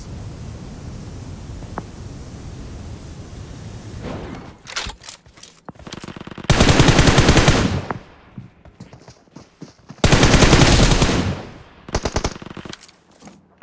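Automatic gunfire from an MG in PUBG Mobile: quiet ambience, then scattered shots and two long, loud sustained bursts, followed by more short bursts.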